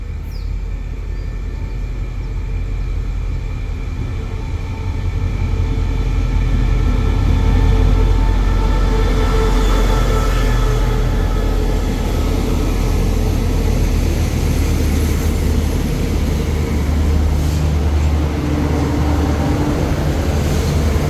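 Thai rapid train 172 rumbling into Ban Pong station, a steady loud low rolling drone of wheels and engine that swells slightly midway and continues without pause.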